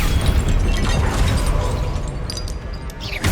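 Loud, close blasts from the Confringo spell in the Hogwarts Legacy video game, dense crackling explosions running together amid combat noise, with no talk over them.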